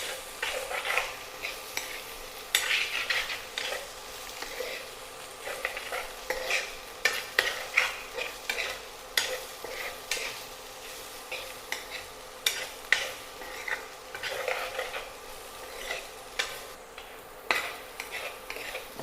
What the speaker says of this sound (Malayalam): ഒന്ന് ഓപ്പൺ ചെയ്തിട്ട് ഇളക്കി കൊടുക്കാം